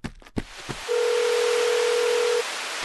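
A telephone ringback tone in a cartoon sounds as one long, steady, clear beep after a few soft knocks, the call going unanswered, followed by quiet hiss.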